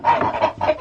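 Chickens clucking in a farm coop at night, with geese nearby, giving two or three short, close bursts of clucking over about a second.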